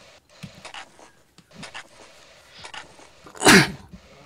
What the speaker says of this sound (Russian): Надеюсь, на сегодня это все мои чихания